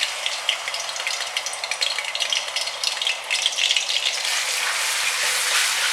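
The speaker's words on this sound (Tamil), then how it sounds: "எண்ணெய் வந்து சூடாயிடுச்சு. இதில் வந்து பச்சை மிளகாவோட பேஸ்ட்டை போடுறேன் முதல்ல." Green chili paste sizzles hard in hot oil for an egg curry, a dense, steady crackling hiss that runs continuously throughout, close and fairly loud with no talking.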